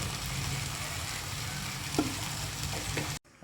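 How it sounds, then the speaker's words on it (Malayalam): Coconut oil sizzles softly and steadily in a pan while masala boti cooks, with a faint scrape partway through before the sound cuts out abruptly. "വെളിച്ചെണ്ണ ഒഴിച്ചു കൊടുക്കുക കേട്ടോ"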